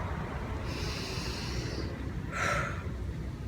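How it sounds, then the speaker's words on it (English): One deep breath taken close to the mic, a long airy inhale followed by a shorter forceful exhale through the nose, heard alone over a low room rumble. "Stop and take a breath."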